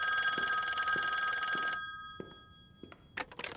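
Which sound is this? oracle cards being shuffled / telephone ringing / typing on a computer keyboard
telephone ringing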